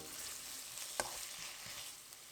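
Bean sprouts stir-fried in a pan with a little seasoning give a soft, quiet sizzle, broken by one sharp utensil clack against the pan and a few lighter taps.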